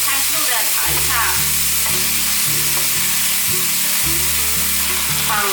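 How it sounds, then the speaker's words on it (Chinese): King oyster and shiitake mushrooms are stir-fried quickly with potato in a vegan dish, with a loud, busy sizzle and tossing under prominent rhythmic background music. "可以把杏鲍菇和香菇放进来。 快速的炒一炒，"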